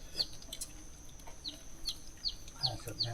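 Chickens and young chicks in a rural forest setting give repeated high, short peeps and clucks at a moderate distance, with a faint voice briefly heard near the end.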